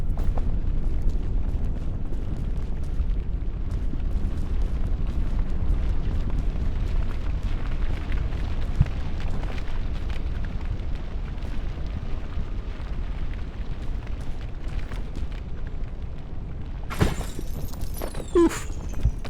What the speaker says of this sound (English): Another firestorm spawning right here.